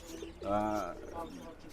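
A single soft, low coo from a young adult pigeon rises briefly and fades, with faint murmuring in the background.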